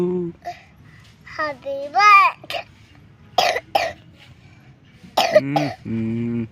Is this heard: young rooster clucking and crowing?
no